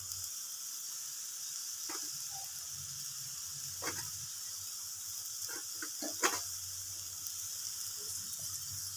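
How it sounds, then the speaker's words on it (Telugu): Tender tamarind leaves sizzle in a pan with a soft, steady hiss and a few light stirring clicks, near but quiet. "ఇప్పుడు నేను చింత చిగురు వేస్తున్నాను."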